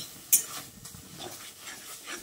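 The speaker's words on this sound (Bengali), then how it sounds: "এবার এই বেগুনটাকে দিয়ে লো টু মিডিয়াম ফ্লেমে ভালো করে কারি পাতার কাঁচা লঙ্কার সঙ্গে নাড়াচাড়া করে নিচ্ছি" Eggplant stirred in a dry pan with curry leaves and green chili over low to medium flame, giving soft scraping and rustling with one sharp clink early on and a quiet sizzle throughout, without any voices.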